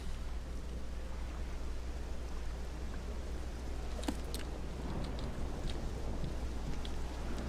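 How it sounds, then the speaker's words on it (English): Steady, soft rain hisses evenly in the city of Vivec in the video game Morrowind, with one brief sharp crackle midway and no voices. "and it's raining."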